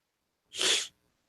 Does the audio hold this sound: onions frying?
no